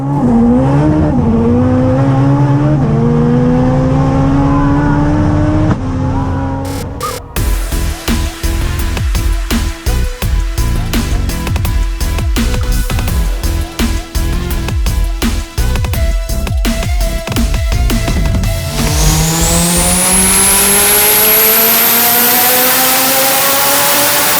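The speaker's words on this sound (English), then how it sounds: "this is our 1100 horsepower all-wheel drive Honda we built for roll racing" An 1100 hp all-wheel-drive Honda Integra race car with a built K24 engine revs loudly and close, with sweeping rises, a long stretch of rapid sharp popping and crackling, then a climbing whine.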